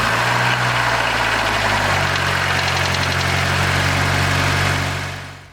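A car engine started after sitting unused for six months settles into a steady, loud idle with a low rumble and a faint knocking character, running alone throughout before tapering off at the very end.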